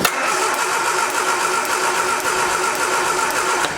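A 1979 Triumph Spitfire engine cranks continuously with a rapid, even chugging rhythm, loud and close, never quite catching.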